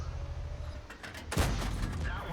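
A tank cannon fires in World of Tanks, a sharp loud blast followed by a rumbling tail over steady engine drone, with faint earlier distant reports from artillery.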